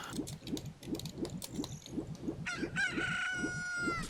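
Chickens in the video game Zelda: Ocarina of Time cluck in a fast, even rhythm of short repeated notes. A drawn-out crowing call joins partway through, all close and clear with no speech.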